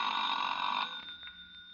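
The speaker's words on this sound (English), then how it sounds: "That's the phone." A telephone bell rings in a radio drama with one bright, sustained ring that cuts off partway through and leaves a faint fading tail, with no voices.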